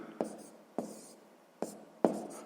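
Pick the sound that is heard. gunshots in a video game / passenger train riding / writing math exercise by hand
writing math exercise by hand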